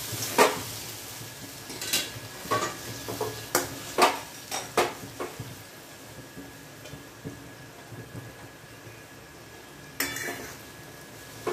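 A spoon stirs chopped spring onion greens with roasted peanut powder in a pan over full heat, giving a series of sharp scraping clinks against the pan, close and fairly loud at first and then sparser over a soft background.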